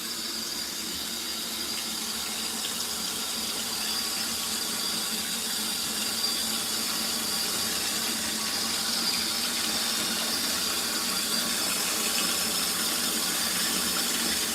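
An LG ThinQ MEGA Ultimate washer fills with hot water on a deep wash cycle, a steady, continuous hiss of rushing water with a high squealing tone over it, close and even throughout with no pauses.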